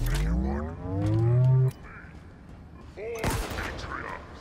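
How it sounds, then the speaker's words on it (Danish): Halo Infinite campaign gameplay, with a rising, ringing energy-shield recharge tone from the video game that sweeps upward and then cuts off, followed by bursts of gunfire and another rising shield whine. "det er bare Halo shieldet. Det har altid været den lyd."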